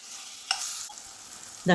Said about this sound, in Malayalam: അത് നമുക്ക് ചെറുതായി ഒന്ന് ഫ്രൈ ചെയ്തെടുക്കണം. അതിലേക്ക് ഒരു ടേബിൾ സ്പൂൺ നെയ്യ് ഒഴിച്ച് കൊടുക്കാം.